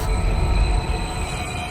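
A train rumbling along in the Wuthering Waves game, a steady low rolling roar with faint high squeals and tones, continuous and fairly loud, no voices.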